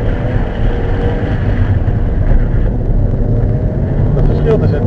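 A car pulls away and accelerates to 40 km/h on a skid-training course, its engine a steady low rumble mixed with wind buffeting, heard from inside the cabin while people talk.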